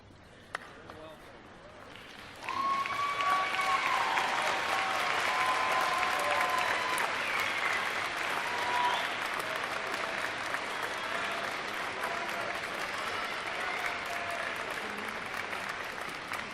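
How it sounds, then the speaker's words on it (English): Graduating class at the Elms College 2018 commencement applauding their families and audience, a broad sustained wave of clapping that starts abruptly and fills the hall for over fourteen seconds, with crowd murmur mixed in. "turn to the audience, and applaud those who made this moment possible for you"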